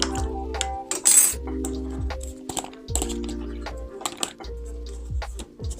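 A fork scrapes tahini from a container in a kitchen while making tahini sauce, giving light metallic clinks and taps in an irregular rhythm, close and fairly quiet, with no talking.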